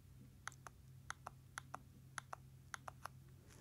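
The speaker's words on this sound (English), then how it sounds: "this is the sound of the buttons." Buttons on a Jabra Evolve 65 headset click about a dozen times. The sharp, faint ticks come singly and in pairs at irregular intervals over a low, steady hum.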